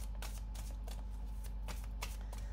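Tarot cards are shuffled and dealt in soft, quick riffling bursts and light slaps, a close, quiet sequence of papery flicks with no voice.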